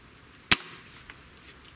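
A single sharp crack from a .30 caliber airgun firing, close and loud against quiet room noise, followed by a faint tick moments later.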